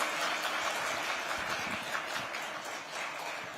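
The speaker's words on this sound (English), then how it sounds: "please give yourselves a huge round of applause" Audience at the Digit Zero1 tech awards ceremony applauds, a dense patter of clapping that stays steady and fairly close, tapering slightly toward the end.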